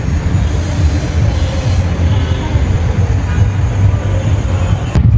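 A children's ride train pulls in at an air force museum park, its steady low rumble and rolling clatter continuing close by, with a brief sharp knock right at the end.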